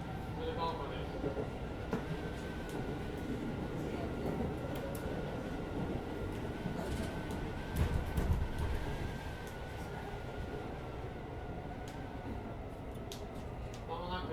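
Rumbling, rattling cabin noise of a refurbished JR 205 series local train running on the Hanwa Line, steady wheel and motor drone with occasional clicks and a louder rolling passage, while an announcement voice talks over it.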